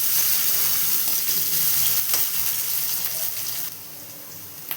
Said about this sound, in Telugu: అలాగే కొంచెం ఈ బీన్స్ను కూడా వేసేసుకోవాలి తీసుకొని ఇలా వేపుకోవాలి